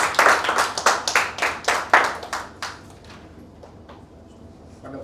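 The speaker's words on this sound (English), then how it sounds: "So let's all clap for Shivani." An audience applauds after a public speaking presentation, with about a dozen rhythmic, fairly loud claps that soften and fade out to quiet room tone.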